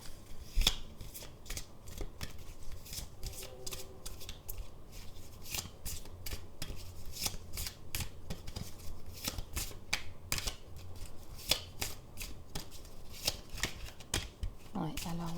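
Tarot cards shuffled by hand, a continuous run of crisp riffling and slapping flicks close by for about fifteen seconds, with soft speech faintly in the background.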